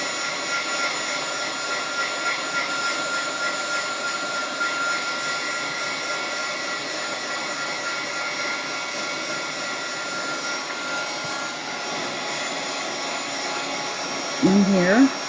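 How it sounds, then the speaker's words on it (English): Hair dryer blowing on artist trading coins, a loud, steady whirring rush of air running continuously, with a short clatter of handling near the end. "We'll give this a little blow dry here."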